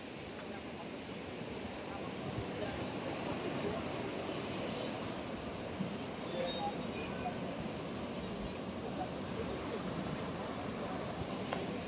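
Waves washing onto the sea shore at Kanyakumari at night, a steady, unbroken roar of surf mixed with wind buffeting, holding an even loudness throughout with no distinct breaks.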